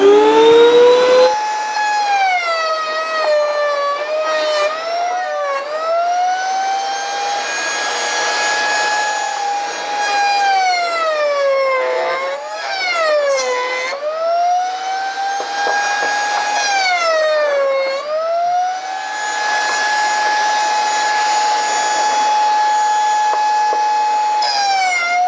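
A dust extractor vacuum runs with Dewalt tools while oak is routed in a woodworking shop, giving a loud, steady motor whine whose pitch dips and rises repeatedly as the load changes. No one speaks.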